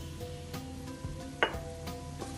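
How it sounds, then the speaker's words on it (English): Minced garlic and ginger sauté in about two teaspoons of cooking oil, giving a quiet, even sizzle. Light utensil scrapes and one sharper clink rise above it, with no voices. "Just saute them a bit until it releases all the aromas."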